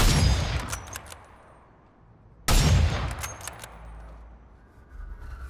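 Two loud sniper rifle shots ring out in the video game INDUSTRIA, each a sharp crack followed by a long, echoing tail that fades away, spaced a few seconds apart.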